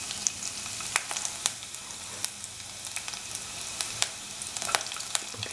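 Shallots sizzle and crackle in hot oil in a pan, a steady close frying hiss dotted with sharp pops and spits throughout, with no voices.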